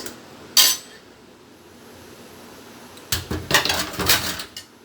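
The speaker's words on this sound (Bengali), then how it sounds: "মশলাটা ভালো করে কষানোর পর আমি এবার কিছু আম ঢেলে দিচ্ছি" About two kilograms of cut raw mangoes tipped into a pot of cooked-down spices for pickle, with a brief clatter at first, then a louder, longer run of tumbling and scraping against the pot.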